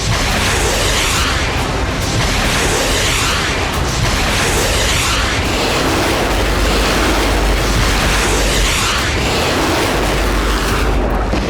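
Russian Iskander-M ballistic missile explosions in Ukraine: a loud, continuous heavy rumble and roar that swells in repeated blasting waves, with no voices.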